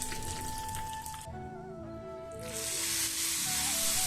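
Mustard seeds, dried chillies and curry leaves crackle in hot coconut oil for a roasted-coconut breadfruit curry, a loud, steady sizzle that swells toward the end over background music.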